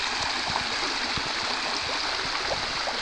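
A clear creek flows over rocks, a steady close babble with small gurgles and splashes running continuously and alone.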